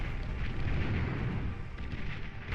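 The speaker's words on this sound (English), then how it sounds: "that was a big explosion of blitzes" A big explosion of blitzes in a strategy video game, a dense, rumbling roar of blasts and booms that stays loud and heavy in the low end through the whole stretch, with no talking.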